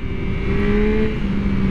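A 2023 Yamaha MT-09 SP motorcycle engine revving hard above 5,000 RPM, a loud, steady, close-up drone that holds its pitch for the whole short stretch with no other sounds.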